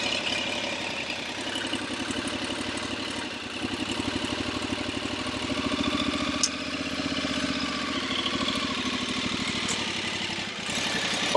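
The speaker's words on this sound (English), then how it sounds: "now I'm going to shut the motor off" A motorcycle engine idles steadily up close, its rapid even firing pulses continuous throughout with a slight dip in level partway.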